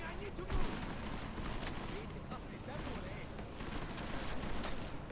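A flashbang grenade detonates in the Deus Ex: Mankind Divided video game, a sharp bang followed by a dense burst of gunfire and chaotic combat noise under constant background sound, while a person talks over it.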